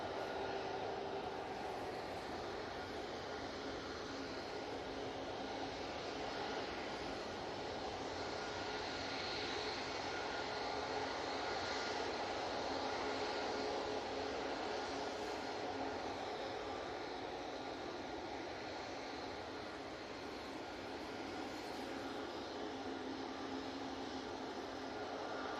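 A jet at Manchester Airport gives off a steady, moderately distant engine roar that swells slightly and holds for the whole stretch, with no talking.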